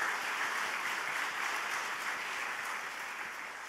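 A church congregation at a Sunday worship service claps steadily to welcome a newcomer, a dense, even wash of many hands held at a moderate, slightly distant level throughout.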